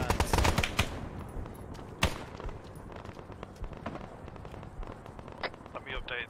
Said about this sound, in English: Rockets and guns.